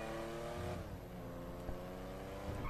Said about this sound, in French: c'est une bagnole rare du jeu